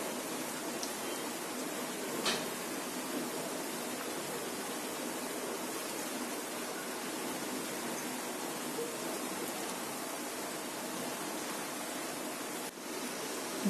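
Semolina sweets frying in hot oil over medium heat, a steady dense sizzle and crackle that holds at an even level throughout, close and continuous with no talk.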